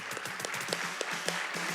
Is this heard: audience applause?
yes